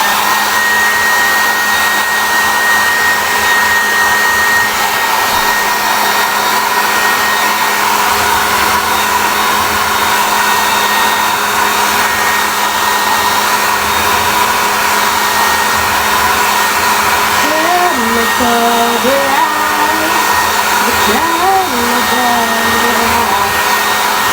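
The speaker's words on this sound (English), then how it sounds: "now I'm gonna blow dry" A hair dryer blows continuously for over twenty seconds, loud and close with a steady rushing drone. Its pitch wavers briefly near the end, and no one talks.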